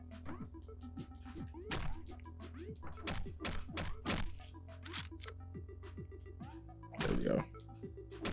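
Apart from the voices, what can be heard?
bat finisher hits in Hotline Miami video game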